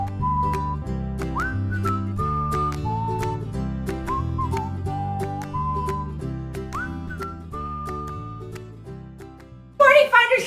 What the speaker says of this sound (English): Stay tuned right after the whistling.